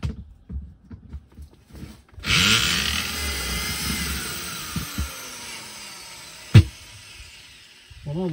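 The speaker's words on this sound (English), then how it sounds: "drilling became a lot faster." A power drill whirs steadily into wood for several seconds, close and loud, followed by a sharp clunk and a short quiet stretch.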